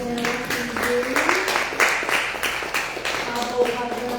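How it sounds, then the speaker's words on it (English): An audience at a live music livestream claps for a musician in a dense wash of applause, with a voice speaking over parts of it. "If you would like to clap for this guy now, please do."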